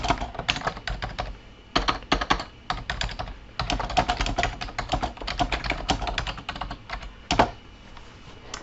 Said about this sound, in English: Just going to type a message.